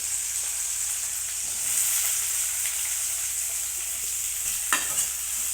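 Sliced onions and curry leaves sizzle in hot oil with mustard and fenugreek seeds for a yam curry, a bright continuous hiss close by with faint stirring scrapes and one louder clank near the end.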